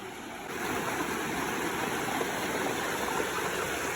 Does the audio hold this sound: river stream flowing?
yes